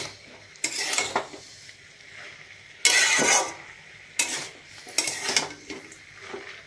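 A utensil stirs spiced fish ghonto in a pan, in bursts of scraping and clattering metal against the cookware, separated by quieter pauses with faint sizzling underneath.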